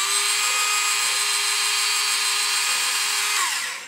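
A power drill bores holes into a plastic model kit of a Star Trek bridge, its steady high whine running loud and unbroken for several seconds before winding down at the end.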